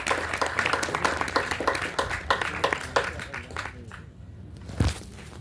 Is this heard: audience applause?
yes